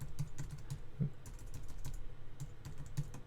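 Typing on a computer keyboard to name a new drawing layer in Toon Boom Harmony animation software, a steady run of close, light key clicks with a few louder taps.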